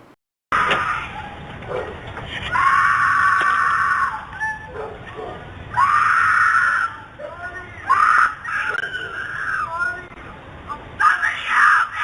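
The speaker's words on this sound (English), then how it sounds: "captured the sounds of the unseen woman screaming in terror" A woman screams in terror in repeated long, strained bursts captured by a home security camera, loud and harsh with distortion, interspersed with shorter cries and pauses.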